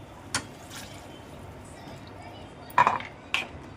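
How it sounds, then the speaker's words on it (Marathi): A few sharp metallic scrapes and clinks of a spoon stirring vegetables in a cooking pot of whole masoor dal, spaced apart over a quiet kitchen background. "आता मी ढवळते"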